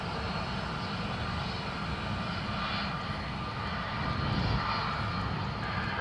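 A Ryanair airliner on final approach to land at Dublin Airport gives a steady, loud, broadband jet roar that swells slightly toward the end, with no voices.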